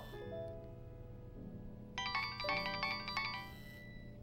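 A mobile phone ringtone plays a bright, repeating melodic pattern over a soft musical background, getting louder partway through and ringing steadily without voices.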